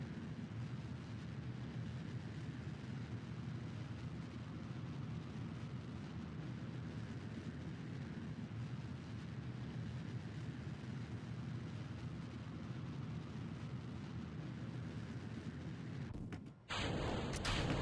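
A rocket engine firing in Kerbal Space Program, a continuous loud roaring rumble that holds steady for about sixteen seconds before cutting off abruptly, with no talk over it.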